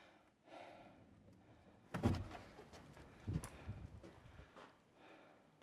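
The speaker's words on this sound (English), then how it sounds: "That door slammed twice." A door at Gisburne Estate thuds shut twice, a heavy slam followed by a second softer bang a moment later, in an otherwise quiet room.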